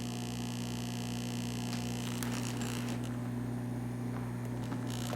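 A compression boot compressor for edema runs steadily, inflating the boot's chambers with a constant low mains-like hum and faint pulsing, close and continuous throughout with no talking.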